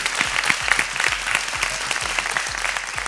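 A studio audience gives steady, close clapping for a young boy after his performance on a TV show, with faint dull thumps beneath the applause.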